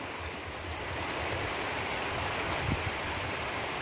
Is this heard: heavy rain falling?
yes